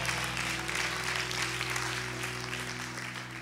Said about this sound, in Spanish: Dele fuerte su aplauso al Señor.